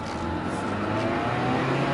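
A Honda Civic engine with a wrongly installed timing belt accelerates, giving a steady, close engine drone that climbs gradually in pitch with no speech.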